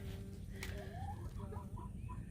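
Soft hen clucks and short chicken calls over a steady low background hum, fairly faint and scattered through the clip.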